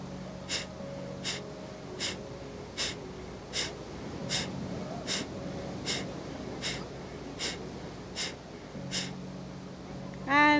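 Rhythmic, forceful breaths repeat about every 0.75 seconds, each a sharp close rush of air, in a yoga breathing exercise; a faint steady hum sits underneath and there is no talking.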